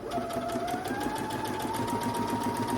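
A sewing machine runs steadily while stitching a quilted pillowcase, its fast, even mechanical whir holding a constant motor hum throughout, close and moderately loud with no talking.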